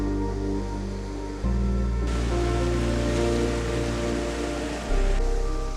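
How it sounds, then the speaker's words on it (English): Atlantic Ocean waves roll in on a Lofoten Islands beach in Norway, a steady broadband wash of surf that swells louder partway through, with no talking. "the waves roll in from the Atlantic Ocean"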